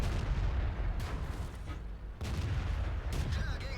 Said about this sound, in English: A lot of shooting going on over here